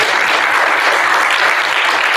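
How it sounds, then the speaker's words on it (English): A school awards assembly audience applauds loudly and steadily, a dense crowd of clapping hands with no break and no talking over it. "give him another round of applause"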